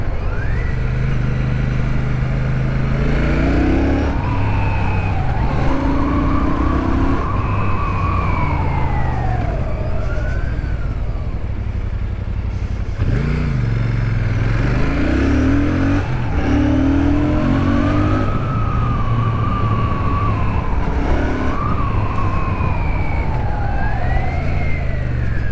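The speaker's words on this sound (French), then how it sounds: "On a un petit échappement ouvert" A Royal Enfield Shotgun 650 motorcycle with an open exhaust roars through revving and gear changes for about 25 seconds, loud and close, with pitch rising and falling in waves and no speech over it.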